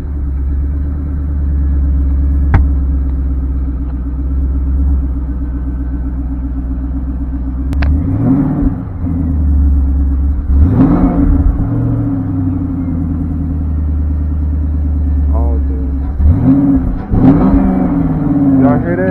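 A Mustang idles with a steady low rumble after a tune, then revs in sharp bursts several times over about twenty seconds, close and loud.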